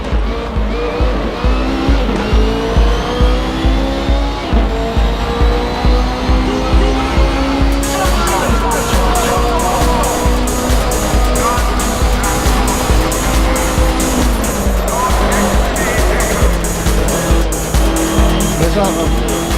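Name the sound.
race car engine and tire squeal, Assetto Corsa video game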